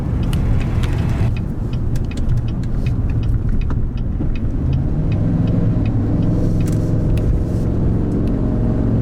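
A 2018 GMC Yukon Graphite Edition SUV driving, its engine rumbling steadily and loudly with road noise throughout, rising in pitch toward the end as it accelerates.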